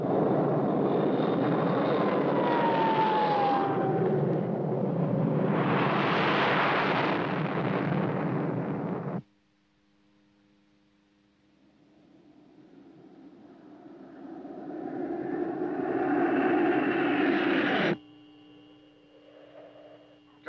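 Fighter jets fly overhead in a 1958 film soundtrack, giving a loud rushing jet roar that cuts off abruptly. It returns after a pause, building to a second roaring pass that also stops sharply.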